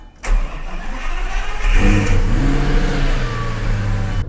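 A Lamborghini Gallardo's dry-sump engine cranks and fires with a sharp start, then settles into a loud, steady, slightly raised idle close by, with no voices.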